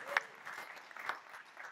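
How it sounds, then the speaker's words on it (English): Applause from a live audience at a funding and investment conference panel, a short burst of scattered clapping that fades within two seconds. "go ahead and round of applause for Sandy."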